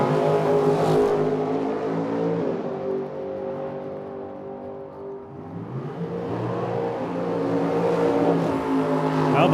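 A Pontiac drag car and a dragster race down a drag strip, loud engine roar with rising and falling harmonic tones as the cars pass and recede, then swell again.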